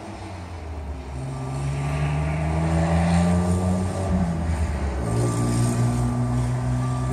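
Engine noise drones outside as vehicles pass, a low steady rumble rising and falling, fairly close and loud.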